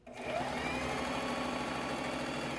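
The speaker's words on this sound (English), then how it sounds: "pin it in place and sew a straight stitch" A sewing machine running a straight stitch along the sides of a reversible fabric bag, one continuous close motor whir with a rapid needle rhythm that starts up quickly and holds steady throughout.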